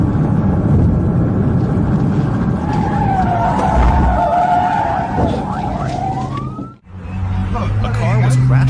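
A car crash with tyres skidding loudly, a long screeching squeal followed by a brief drop into quiet, then renewed engine and road noise, with a siren-like tone mixed into the dense traffic din.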